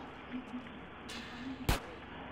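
Gunfire in a video game: a few soft, scattered shots, then one sharp, loud burst near the end, over steady low background game noise.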